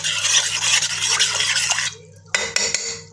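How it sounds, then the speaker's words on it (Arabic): Cake batter made with custard powder and starch is stirred briskly in a bowl, a spoon scraping and clinking against the sides in close, steady strokes before pausing, then a few more knocks and scrapes. "هنقلب بقى كويس كده"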